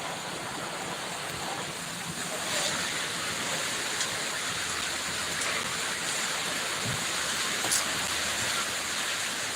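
Steady rain falls outdoors on an afternoon, an even, dense hiss that continues unbroken at moderate distance, with no talk.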